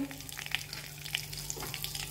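Cumin seeds and green chilli crackle in hot oil as a tempering for a fasting upma and peanut amti, a close, steady sizzle with scattered small pops and no voices.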